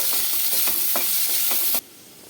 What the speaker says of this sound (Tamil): இப்போ இதை வந்து நல்லா ஃப்ரை பண்ணி நல்லா வதக்கி விட்டுடலாம்